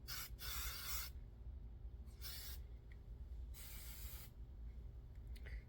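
Hairspray from an aerosol can misted onto styled thin, fine hair, three separate hissing bursts of roughly a second each with short pauses between, close and clear over a quiet room.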